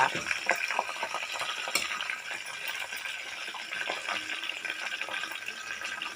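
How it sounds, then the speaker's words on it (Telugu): Seasoning crackles and sizzles in hot oil for a tamarind-leaf chutney, a continuous fine, hissing spatter with scattered pops, steady and fairly close throughout. "ఇందుకు బాగా చిటపట్లాడుతుంది వేగిన తర్వాత"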